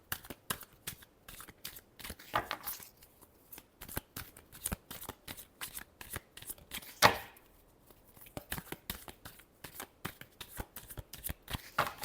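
Tarot cards being shuffled by hand, close and crisp: rapid riffling flutters and slaps in repeated bursts, separated by short pauses and soft handling noises, with no talking.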